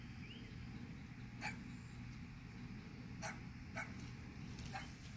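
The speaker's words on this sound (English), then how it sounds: "There's the dogs next door." Dogs barking at a neighbouring property, a few short sharp barks at scattered intervals, distant and faint over a quiet outdoor background.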